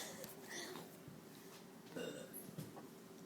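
Faint burps come at midnight amid quiet room noise, with low voices speaking softly around them.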